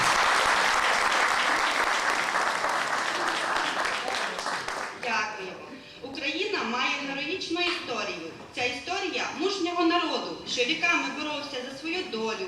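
Applause from a village concert audience for a performer in Kotelevo, Ukraine, a dense steady clapping wash for about five seconds, then fading as a voice speaks over thinning claps.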